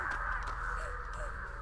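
Crows caw in the Dead by Daylight video game, a short burst of harsh, close calls over a low ambient hum.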